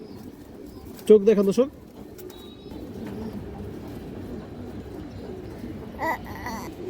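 High-quality pigeons coo in a short burst of close, throaty calls, then someone talks over a quieter stretch with faint bird sounds behind him.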